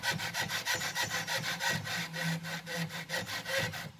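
Worn rubber suspension link removed from a Volkswagen Passat, worked by hand so it creaks and grinds in a steady rhythmic back-and-forth scraping, close and fairly loud, with no talking.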